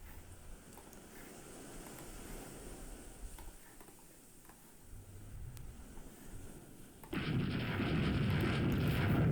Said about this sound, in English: No, I get hit by a torpedo.